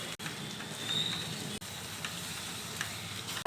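Stuffed ivy gourds fry in oil with coriander powder, chilli powder and salt, a dense, continuous sizzle with occasional soft clicks of the pan.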